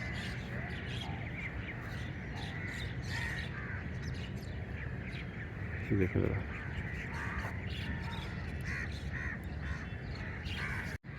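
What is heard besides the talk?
birds calling, crows cawing among trees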